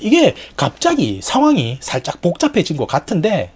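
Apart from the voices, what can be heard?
No everyday noises stand out.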